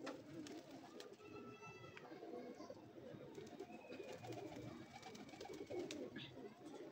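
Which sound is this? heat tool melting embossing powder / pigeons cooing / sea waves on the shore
pigeons cooing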